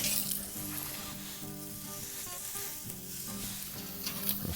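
Filet mignon steaks sizzle on BBQ grill grates, a constant crackling hiss close by, broken by a few brief tonal scrapes and clinks as utensils handle the meat.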